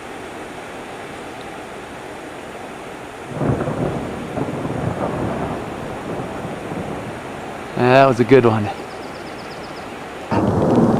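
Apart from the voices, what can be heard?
thunder during rainstorm in mountain canyon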